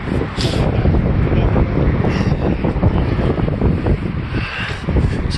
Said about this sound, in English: Sorry about the wind, but it's windy and cold here today.